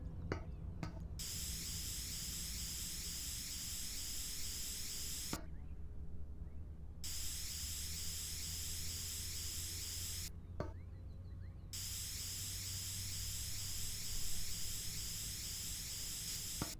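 A spray gun hisses continuously in a farm renovation video game, a dense steady spray broken by two short pauses, loud and close with faint background game ambience.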